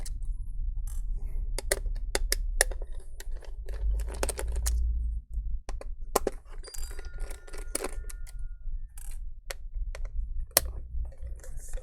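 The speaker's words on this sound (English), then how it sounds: "disconnect the battery using a Phillips screwdriver here" A Phillips screwdriver backs screws out of an HP laptop's case to free the battery, making irregular close clicks and small metallic ticks over a steady low hum, with no talking.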